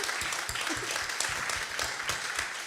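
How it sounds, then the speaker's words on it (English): A crowd claps for a panel before a question-and-answer session, a brief burst of steady, fairly close applause with no voices over it. "I want to give you guys a round of applause before we go to the question and answer"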